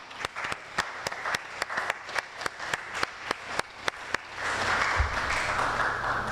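An audience at an annual research day session applauds, starting with distinct sharp individual claps in a loose rhythm that swell into a dense, sustained round of clapping filling the room.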